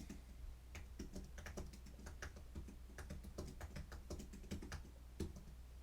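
Steady, fast clicking of keys on a computer keyboard as text is typed, a dense irregular patter of light taps close by with a low hum underneath and no talk.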